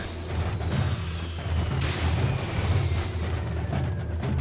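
A bomb blast in the video game Ape Out, a heavy low rumbling boom that swells and rolls on for several seconds at a fairly constant loudness, with crackling debris texture on top.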